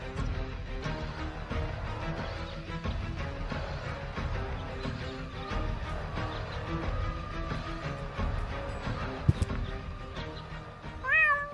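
A cat meows repeatedly in the video game Deponia, the cries rising and falling over a steady bed of game music, with one sharper, louder meow near the end.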